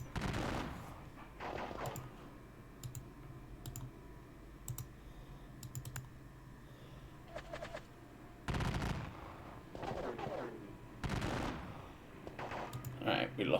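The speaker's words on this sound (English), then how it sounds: "pour in the gunfire up there as well" Clipped bursts of small-arms gunfire from a Gettysburg wargame, short cracks at scattered intervals with a few louder volleys, set against a faint steady background hum.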